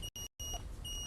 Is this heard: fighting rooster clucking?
no